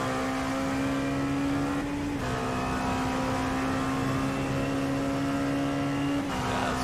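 Race car engine heard from inside the cockpit in a video game sim at Suzuka, a steady high drone held at near-constant revs with two brief dips, loud and close with no talk.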